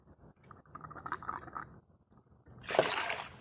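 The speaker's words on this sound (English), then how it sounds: "you can hear it coming out into the holes in the pipe" Water gushes from a tipping container into a holed watering pipe on a terrace plant table, a sudden loud rush and splash after a quieter stretch of faint trickling and dripping.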